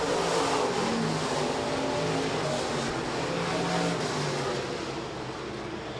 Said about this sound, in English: Heat race number 1 of 3 for the USRA Stock Cars.